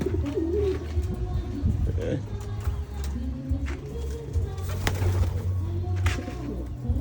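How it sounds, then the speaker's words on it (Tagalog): Pigeons back from a flight coo in low, repeated rumbling calls, steady through the clip against a busy outdoor backdrop with scattered clicks and a voice in the background. "Bilis lang, galing ronda mga kalapatids."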